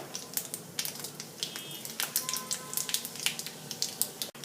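Dried red chilli frying in hot tempering oil with asafoetida for a coconut chutney, giving a steady, fairly soft crackle with frequent small sharp pops.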